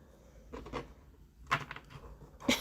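Tarot cards being shuffled by hand, three short papery riffling bursts separated by brief pauses, close and fairly quiet, with no talking.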